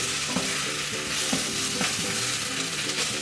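Vegetables for a vegetable broth sizzle steadily in a hot pan while a wooden spoon scrapes and stirs in a loose rhythm, close and clear, with no talking.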